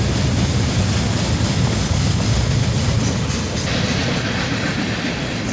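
A CSX freight train rolls past near and loud, a steady rumble with clickety-clack of wheels over rail joints running without pause.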